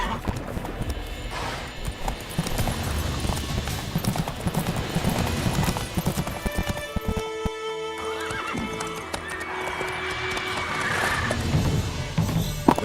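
Horse galloping in The Witcher 3, a continuous stream of rapid hoofbeats with snorting and neighing woven in, loud and close over game music and ambience throughout.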